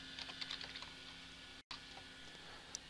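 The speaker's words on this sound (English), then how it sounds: "Let's type in fishing lure." Quiet, close clicking of a computer keyboard as a search is typed, with light irregular keystrokes over a low background hum.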